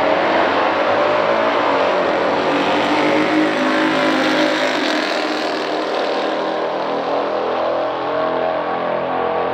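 A 1969 ZL1 Camaro and a 1972 Chevelle V8 drag racing, with a loud, continuous V8 engine roar at full throttle throughout, sounding close and dense without pauses.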